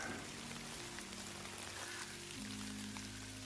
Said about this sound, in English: the rain's picked up a little bit, not too bad